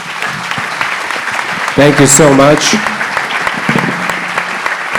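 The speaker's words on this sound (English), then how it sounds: "Big round of applause, please." Applause from the audience at an AI summit panel closing, dense clapping throughout, with a speaker briefly talking over it midway.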